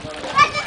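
A brief splash of water as someone drops into a pool, with children's voices around it.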